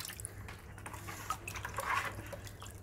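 Water trickles and drips softly over a small toy figure's hands as they are rinsed, a faint, close wet patter with a few brighter drops, heard alone without talk.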